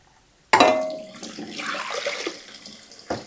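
Water gushes from a tap into a pot, starting abruptly, splashing and filling steadily for a few seconds before a brief knock at the end.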